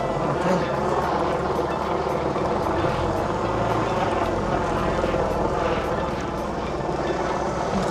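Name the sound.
helicopter flying overhead before a motorcycle race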